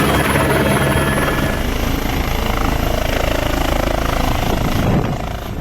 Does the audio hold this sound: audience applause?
no